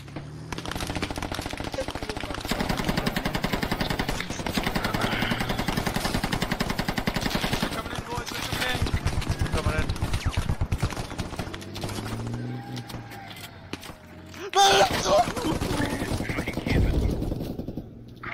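Rapid bursts of automatic gunfire and single shots from a video game battle in the backstreets of Baghdad, loud and nearly continuous, with a brief lull before another heavy burst; players shout and talk over the shooting.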